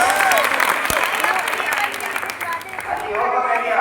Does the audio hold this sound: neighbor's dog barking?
no